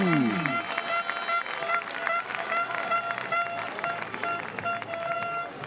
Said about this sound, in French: Allez, on les applaudit bien fort.